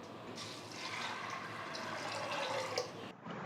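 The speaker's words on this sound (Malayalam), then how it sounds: "ഇതിലോട്ടിനി ആവശ്യത്തിനുള്ള വെള്ളം കൂടി ഒഴിച്ചു കൊടുക്കാം." Water is poured steadily into a pressure cooker holding cowpeas, a continuous close splashing fill that runs for a few seconds and then stops abruptly.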